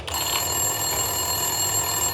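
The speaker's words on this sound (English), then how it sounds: "Winterson's phone was ringing." A desk telephone rings steadily in a police station in the Max Payne 2 video game, a continuous electronic bell tone with no talk over it.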